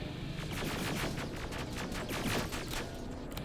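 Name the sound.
automated turrets firing in Terminator: Resistance video game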